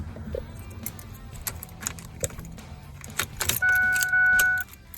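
A car ignition key turned in an 11–16 model-year vehicle with a swapped dash: light key-jangle clicks, then a steady electronic warning chime lasting about a second, close and clear.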